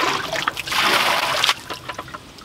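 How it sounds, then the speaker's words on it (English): Water poured from a small bucket over laundry to rinse it, a close, steady splashing trickle that swells for about a second and then tapers into lighter drips. "And I'm just gonna rinse it. So I use my little bucket."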